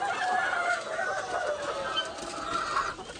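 White Leghorn chickens near laying age cluck and squawk steadily throughout, a busy flock heard close by with overlapping calls and no talking.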